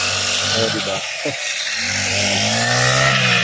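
A grass cutter runs in a farm field with a loud, steady, high buzzing engine drone, close by, its pitch dipping briefly once before rising again, while someone speaks a few words over it.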